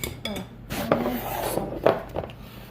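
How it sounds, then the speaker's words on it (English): A utensil stirs food around in a pan as a side dish is cooked, with scraping and a few clinks of metal against the pan, some soft and some sharper, close by. "I'm just gonna stir this around."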